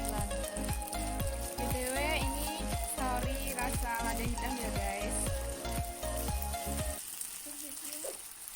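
Black pepper sauce sizzling in a frying pan over medium heat, with rhythmic stirring scrapes and a steady crackling fry that settles into a quieter hiss near the end.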